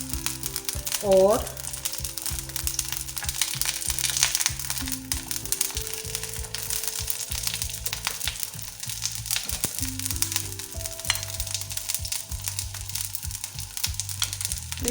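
An omelette flipped and pressed down in a frying pan sizzles steadily with soft scraping. A single word is spoken briefly, and music plays in the background.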